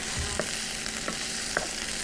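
Minced chicken kofta frying in a pan as it browns, a constant close sizzle with occasional soft clacks of a spoon stirring, and no voices.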